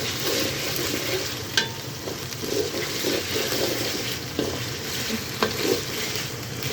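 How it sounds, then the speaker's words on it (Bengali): Potatoes fry with spices in a pan, giving a steady sizzle with scraping stir sounds and a few sharper clinks throughout, no voices. "এখানে আমি এখন এই আলুগুলো দিয়ে একসাথে ভেজে নেব।"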